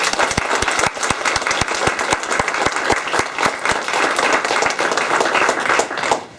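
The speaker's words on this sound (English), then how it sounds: "our panel, I'd love to give them a round of applause." An audience in a room gives a panel on teen stress a sustained round of applause, many hands clapping densely and loudly from start to finish before tapering off at the very end.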